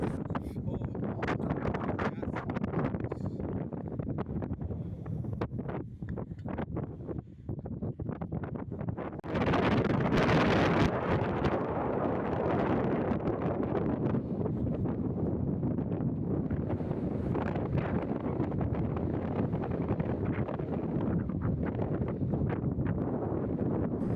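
Strong wind sweeps across the mud volcanoes of Azerbaijan as a steady, loud broadband roar buffeting the microphone, swelling into a harsher gust about halfway through and holding there, with no talking.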